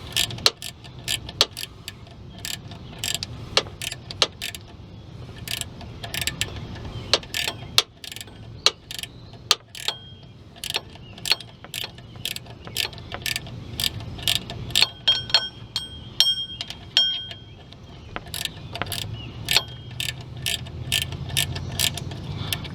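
Ratchet wrench tightening an alternator bolt on a Dodge Caravan, rapid runs of sharp metallic clicks in bursts with brief pauses, close and fairly quiet.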